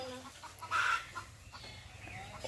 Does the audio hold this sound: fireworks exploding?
no